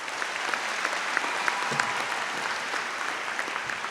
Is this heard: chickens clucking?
no